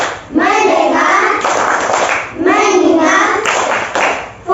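Schoolchildren in an Indonesian classroom perform a rhythmic clap chant, group hand claps punctuating loud, close chanted voices.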